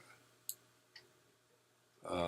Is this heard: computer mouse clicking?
yes